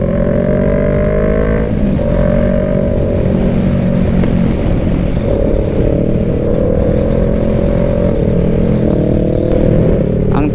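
Motorcycles cruising along Aguinaldo Highway toward Tagaytay, a steady loud engine drone with wind rumble that holds throughout with no voices.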